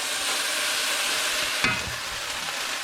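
Wheat noodles fry loudly in a wok, a close, dense, unbroken sizzle with a brief stirring clatter partway through.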